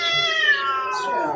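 A cat meows in one long, loud, wavering yowl close by, heard alone.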